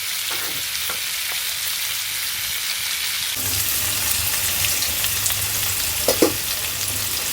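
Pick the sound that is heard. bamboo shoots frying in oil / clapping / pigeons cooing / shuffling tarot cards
bamboo shoots frying in oil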